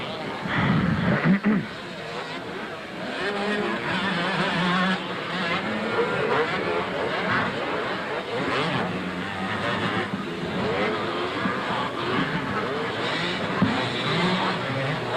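Motocross bikes racing on a Friday night track at Lake Geneva, engines droning steadily and fairly far off for the whole stretch, under a continuous crowd and commentary murmur with a louder burst near the start.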